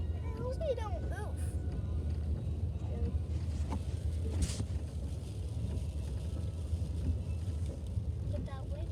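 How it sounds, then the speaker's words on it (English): Strong wind roars steadily across an outdoor setting at night among Christmas lights, a loud low rumbling gust noise buffeting the microphone throughout, with people talking over it. "Look at that wind."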